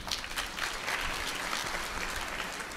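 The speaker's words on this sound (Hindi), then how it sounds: "ताली बजाने के लिए।" Audience applause at a religious discourse, a soft, steady patter of clapping from a crowd that sounds somewhat distant and holds evenly throughout.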